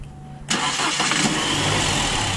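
A Buick Encore's 1.4L Ecotec engine is cranked briefly during diagnosis of a bad idle and misfire. Quiet background comes first, then a sudden loud starter whir and engine noise that stays steady and close for the rest of the clip.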